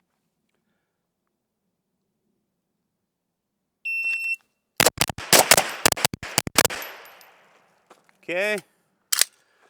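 Gunshots ring out at an outdoor shooting range: after a sharp electronic beep, a quick string of loud, close shots cracks in rapid succession, then a few more beeps and a final shot. A voice speaks briefly.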